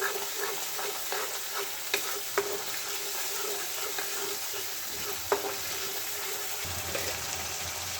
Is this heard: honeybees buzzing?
no